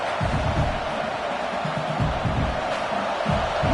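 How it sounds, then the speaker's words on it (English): A steady wash of stadium crowd noise at an American football game fills a large open space, with a constant roar of many voices and scattered thumps underneath. "Listen to the crowd energy here in the early going."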